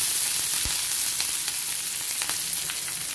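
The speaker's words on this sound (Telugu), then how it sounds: "ఒక చిన్న ఉల్లిపాయని ఇలా కట్ చేసి వేసుకోవాలి। ఇప్పుడు దీన్ని వేయించుకోవాలి।" Chopped onion fries in a pan with a steady, dense hiss of hot oil and a few light pops and spatula taps, close and even throughout, with no talking.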